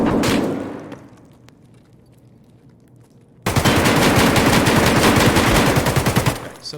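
Automatic gunfire in the Escape From Tarkov Factory map: a short burst at the start, a quieter lull, then loud, sustained rapid-fire shooting through to the end.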